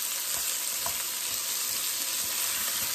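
Diced onion and guanciale sizzle steadily in a pan over lowered heat, a dense, even crackle of frying fat that continues throughout with no talking.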